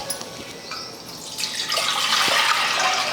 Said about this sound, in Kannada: ಈಗ ಇದಕ್ಕೆ ನೀರು ಹಾಕ್ಕೋತೀನಿ.